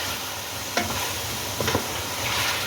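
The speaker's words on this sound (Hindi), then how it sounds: "अब इसको मसाले को इसके अंदर अच्छे तरीके से गोश्त को भी भून लें" Mutton frying with spices in a pot gives a steady, moderate sizzle, with two sharp scraping stirs of a spoon against the pot partway through.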